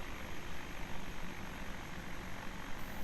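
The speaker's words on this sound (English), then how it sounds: "Oh, I'm getting the dusty tow plane." Tow plane propeller engine drones steadily in the Condor 3 soaring simulator, a dense continuous hum with no breaks over a few seconds.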